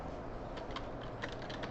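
Quiet clicking of keys on a computer keyboard as a product search is typed, a short run of light, irregular taps with no speech.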